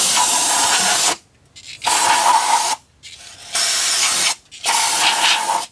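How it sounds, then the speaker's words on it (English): Four loud bursts of aerosol brake cleaner spray, each hissing for about a second with short silent gaps between them, close to the microphone, during repair of a 1966 Ford Thunderbird. "we take a little bit of good old-fashioned Walmart brake cleaner, brake parts, and we give it a good spray"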